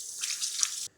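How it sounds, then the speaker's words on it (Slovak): Tap water runs hard as hands are washed beneath it, a close, steady hiss that stops abruptly. "Miem si ruky."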